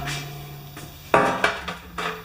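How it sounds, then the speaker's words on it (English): Small metal clinks and taps ring out as the metal bowl is worked off the carburetor of a lawn mower engine, with a few distinct knocks over a quiet background. "So I'm taking the bowl off the carburetor."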